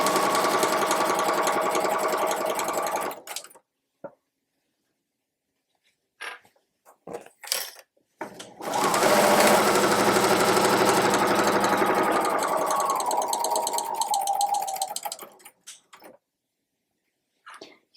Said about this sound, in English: You're basically going to bring the bottom up right here to this edge and just sew right across